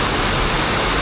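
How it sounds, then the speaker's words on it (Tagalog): Heavy rain during a motorcycle ride through Quezon, a dense, loud, unbroken wash of noise that covers the whole moment, with no voices. "Grabe, lakas pa rin talaga ng ulan."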